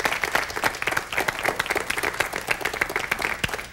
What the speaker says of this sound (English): let's give Mr. Keyes a round of applause today.